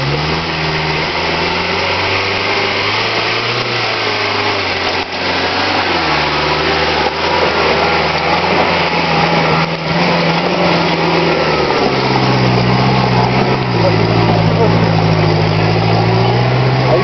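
A 4x4 off-road vehicle's engine drones steadily and loudly throughout, its pitch shifting as the throttle is worked, with the tone dropping noticeably toward the end.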